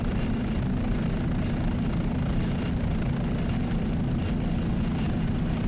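A helicopter hovers over a 2002 Key West superboat race, its steady loud rotor and engine drone with heavy low rumble filling the whole stretch, no voices.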